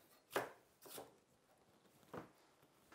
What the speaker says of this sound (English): I'm gonna roughly chop these up, just cutting them into